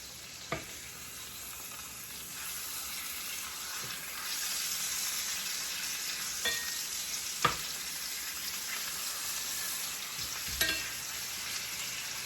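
A salmon fillet fries in a very hot pan after being flipped, giving a steady, close sizzle with occasional sharp pops and clicks of the pan and utensil.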